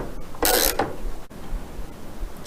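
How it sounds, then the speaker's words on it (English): A nut on a Tillotson T4 mini bike steering bolt being tightened with a 6mm Allen key and 13mm spanner: a short burst of metallic ratcheting and scraping, then faint clicks, close and quiet. "put the nut back on and tighten up using a 6mm Allen key and a 13mm spanner"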